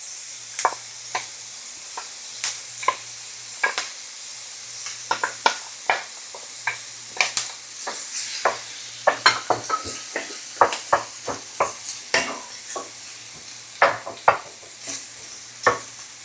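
Rice for shrimp fried rice stir-fried in a hot pan: a soft constant sizzle broken by frequent sharp metallic scrapes and clinks of the spatula, close and fairly loud, with no talking.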